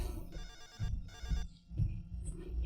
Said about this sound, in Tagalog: Tubagal ako na ng tawag sa imong cellphone gaw.